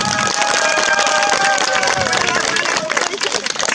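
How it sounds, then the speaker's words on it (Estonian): A crowd at an outdoor summer-days gathering gives a loud round of applause, steady dense clapping mixed with cheering and crowd babble throughout. "Teeme neile kõigile üks kõva aplaus."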